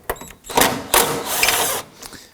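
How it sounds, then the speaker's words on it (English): A socket wrench turns out 10mm bolts under the hood of a 2018–2024 Toyota Camry 2.5L, a few short close ratcheting whirs in quick bursts. "Let's go ahead and remove these two 10mm bolts."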